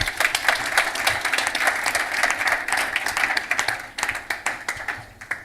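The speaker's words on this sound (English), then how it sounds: "One more round of applause, please" Audience applause at a storytelling arts event, lively steady clapping from a crowd, close and fairly loud, easing slightly near the end.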